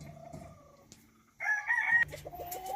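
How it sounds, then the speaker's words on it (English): A rooster on Kauai crows once, loud and fairly close, preceded by softer clucking and followed by more clucks from nearby chickens. "This is nice chicken."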